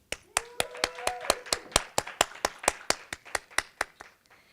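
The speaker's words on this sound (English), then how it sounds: "Please join me in a warm round of applause." Audience at a school leadership conference on stage gives a short round of applause: about eighteen separate, evenly spaced claps, fairly close and moderately loud, trailing off at the end with no talk over it.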